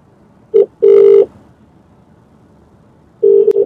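A telephone rings twice in the earpiece, short double bursts of a low tone separated by a pause, then the pattern starts again.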